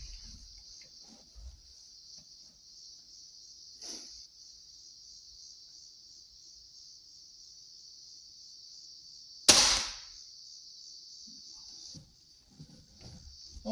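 A Centerpoint Dagger 390 crossbow fires a bolt outdoors with one sharp, loud snap. Steady cricket chirping carries on in the background before and after the shot.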